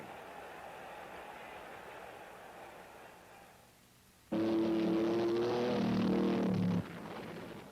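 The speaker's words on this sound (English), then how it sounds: "This car won at the rugged Baja 1000 without a single tire failure." A Baja 1000-winning race car engine roaring loudly for a couple of seconds, following quieter broadcast noise with faint talk.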